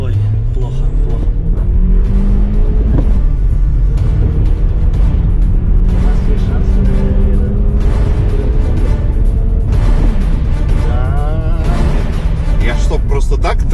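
An Audi 4.2 revs hard in sport mode, the engine roaring loud and close with rising, shifting pitch sweeps that climb, drop and climb again over about fourteen seconds, with occasional voices mixed in.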